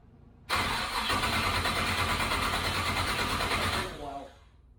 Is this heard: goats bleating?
no